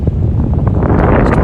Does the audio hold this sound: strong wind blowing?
yes